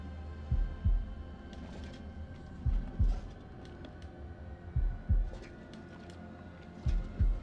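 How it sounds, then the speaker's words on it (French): A slow heartbeat from the horror video game House of Ashes: deep, muffled double thumps repeat about every two seconds over a low droning ambience, with no talking. "c'est comme les battements de cœur"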